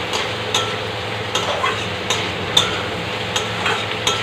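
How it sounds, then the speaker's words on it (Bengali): Fried pointed gourd and potato being sautéed with spices in a pan, a soft steady sizzle broken by regular sharp clicks of a spatula scraping and tapping the pan. "এবার ভেজে রাখা পটল আলু একসঙ্গে দিয়ে মশলার সঙ্গে আরও কিছু সময় কষিয়ে নেব।"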